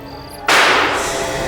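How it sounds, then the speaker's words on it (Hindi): A single gunshot cracks out at night, sudden and loud, then its echo trails away over a steady background murmur. "गोली चल गई?"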